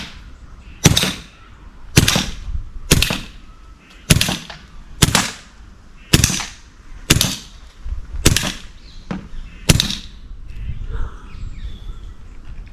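Rapid shots from a Crosman air rifle converted to CO2, about nine sharp cracks in quick succession at a close, steady pace, each snapping out loudly above a quiet background before a brief lull.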